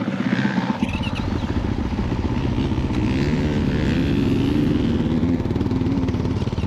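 A motocross motorcycle rides a dirt track at Recoaro, with a steady buzzing engine drone and rapid exhaust pulses, close and continuous throughout.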